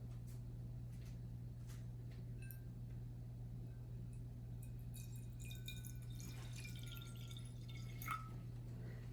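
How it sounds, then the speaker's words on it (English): Water is poured onto a plate in a small classroom-style science demonstration, giving faint, close trickles and drips over a steady low background hum. "we're just going to add some water to the plate."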